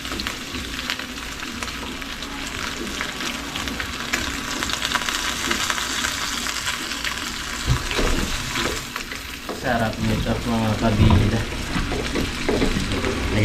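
Shrimp paste (bagoong) stirred into fish frying in a pan, giving a steady, close sizzle with scraping stir sounds and a brief watery splash near the end; no talking.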